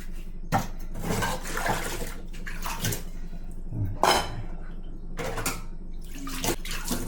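Running water pours while dishes are washed at a home sink, a continuous flow broken by repeated splashes and clatters of rinsed pots and plates.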